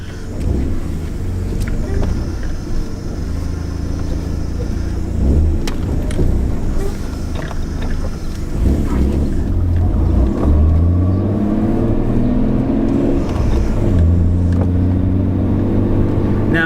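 A Nissan Skyline GTR with a newly installed downpipe and a small exhaust leak drives along, heard from inside the cabin. The engine drones loudly and steadily, with rising revs as it accelerates and falling pitch as it shifts.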